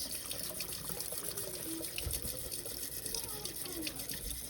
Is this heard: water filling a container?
yes